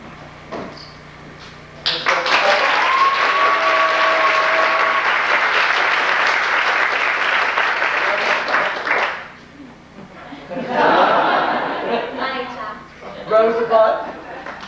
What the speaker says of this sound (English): Applaud for your favorite, Mrs. Brougham.